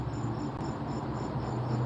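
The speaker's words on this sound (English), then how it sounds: "There are a bunch of crickets nearby." Crickets chirping nearby on a humid night, a steady high pulsing trill running throughout, with a low hum of outdoor background underneath and no speech.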